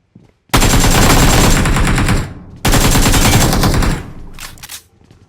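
Loud, close automatic gunfire in the mobile shooter BGMI: two long rapid bursts of shots, each lasting about one and a half seconds, separated by a brief pause, with a short fainter rattle trailing after.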